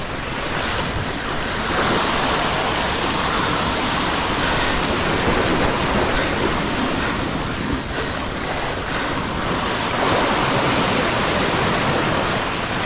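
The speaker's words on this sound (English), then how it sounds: "quickly turned into a dangerous surge of water around him" Rough ocean surf surges and crashes around a man, a loud, continuous roar of churning water with wind buffeting the microphone, sustained without pause throughout.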